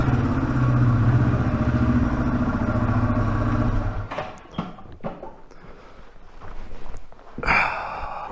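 Yamaha TW200 motorcycle engine laboring up a steep off-road hill, a loud steady drone for about four seconds that then cuts out, followed by scattered clatter and thumps.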